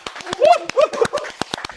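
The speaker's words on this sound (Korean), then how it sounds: "박수!" Several crisp, close hand claps ring out in an uneven rhythm over less than two seconds, with voices and brief laughing sounds mixed among them.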